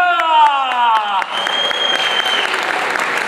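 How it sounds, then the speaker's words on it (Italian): Audience applause at a live Italian food and music expo show in Winterthur, breaking out as a spoken line ends and building into steady, loud clapping from the crowd for the rest of the moment. "Un applauso alla sciarpa del Papi Ultra!"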